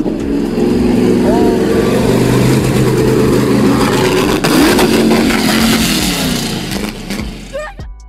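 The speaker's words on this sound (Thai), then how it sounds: "แต่จะว่าไปเสียงเครื่องยนต์นี้แล้วใจร้าย ๆ" Boat engine roaring loudly and steadily with a revving rise and fall, a boat mishap on the water, with a voice talking over it before the sound fades near the end.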